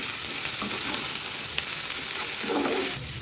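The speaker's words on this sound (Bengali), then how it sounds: "একটু ভেজে নিই, তার একটু টমেটো দেবো।" Spices and tomato for vegetable biryani fry in a pan, making a steady close sizzle with faint stirring scrapes that quiets slightly near the end, with no talking.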